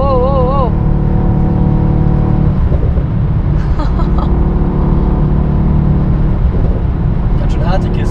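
A Mercedes-AMG E63 S Edition 1 in Sport Plus mode drones loudly from inside the cabin as it accelerates onto the Autobahn, a strong low engine note with rising gear tones beneath speech.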